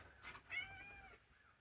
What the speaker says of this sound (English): the cat just came to join me